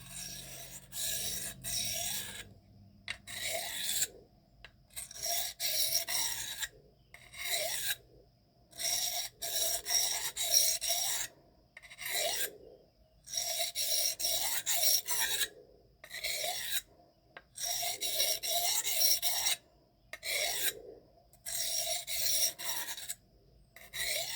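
A steel knife blade of M398, Maxamet or MagnaCut is worked on a sharpening stone to reduce the burr, giving close, steady rasping strokes in a regular back-and-forth rhythm with brief pauses between passes.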